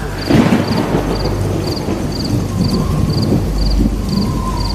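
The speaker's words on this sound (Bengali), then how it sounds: "হঠাৎ আশেপাশে কোনো একটা গাছের মধ্যে কর কর করে জোরে একটা বাজ পড়ল।" Lightning strikes a tree nearby and the thunder sounds as a loud, continuous low rumble, with crickets chirping in a steady rhythmic pulse and a soft wash of rain and wind behind it.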